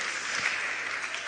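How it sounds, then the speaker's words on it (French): Audience at a youth panel Q&A session applauding and cheering, a steady dense wash of clapping held at even loudness throughout without pause. "Est-ce qu'on peut acclamer pour Papa Ebdavi?"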